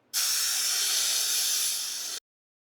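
A strong, steady hiss of Star San sanitizer spraying out of a 5 gallon PET keg under pressure, lasting about two seconds and then cutting off abruptly.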